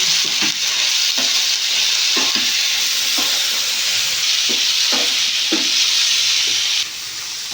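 Spices and salt frying in a pan for a Bengali rohu fish kalia, a loud continuous sizzle with repeated scraping stirs at a steady rhythm, close and without speech.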